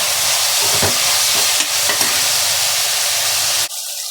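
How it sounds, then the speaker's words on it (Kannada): Peas are added to a pan of vegetable fried rice with greens, and a loud, close, continuous sizzle of frying runs with scraping stirs before cutting off abruptly near the end. "ಇವಾಗ ಬಟಾಣಿ ಹಾಕ್ತಾಯಿದ್ದೀನಿ."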